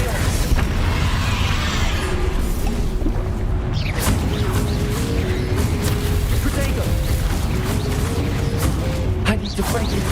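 Spell blasts go off in the video game Hogwarts Legacy: loud, dense booms and crashes over a steady rumble of game sound, with voices calling out between the bursts.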